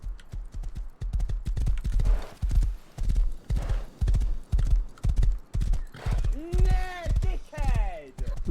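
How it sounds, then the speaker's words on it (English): A horse in the video game Rust trotting with a steady, close clip-clop of hooves, then neighing and whinnying loudly near the end. "A horse!"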